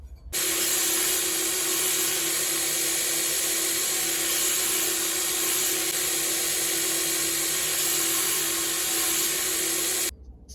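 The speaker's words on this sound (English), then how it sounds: "This one's 240 grit, which is where we're going to end this grinding on the flats." A belt grinder running a 240 grit belt grinds the flats of a cowboy knife blade, making a constant close motor whine and abrasive hiss for about ten seconds that starts and stops abruptly.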